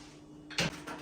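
A drawer slides and knocks shut in a single short, fairly close burst against a quiet room hum, with no talking.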